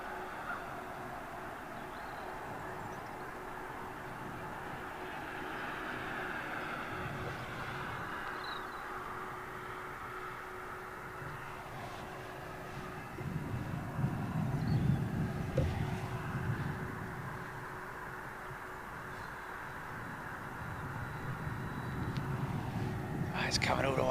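Jet airliners at London Heathrow runway 27L roll past at a distance, a broad steady roar that swells louder in the middle and again toward the end, with people talking over it.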